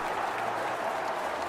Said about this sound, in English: People are cheering and applauding the deaths of these enemies